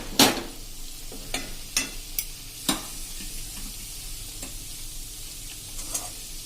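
Chili besan sambharo cooking in a pan while lemon and sugar are mixed in gives a soft, steady sizzle under a handful of sharp spoon taps and scrapes, close and moderately loud.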